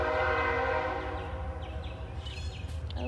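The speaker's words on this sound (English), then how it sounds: "Oh, the train. God, I hate the train." A passing train sounds a long, sustained horn chord over a low rumbling rail drone, fairly distant and steady, fading slightly toward the end with faint clanking.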